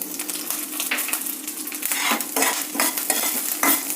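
Curry leaves, cumin and green chillies with ginger roasting in a pan while being stirred, bursts of crackling sizzle rising and falling with repeated scraping strokes, close and fairly loud.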